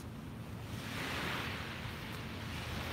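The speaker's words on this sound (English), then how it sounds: "look out on the water and soak in those sounds of the waves" Ocean waves wash onto a beach in a broad, continuous rush of surf, swelling to a peak mid-way and easing again, with some wind across the microphone and no voices.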